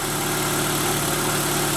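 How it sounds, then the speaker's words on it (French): A car engine idles steadily just after being started, with a treatment product added, a constant close low hum with no talk. "donc je viens de démarrer le moteur."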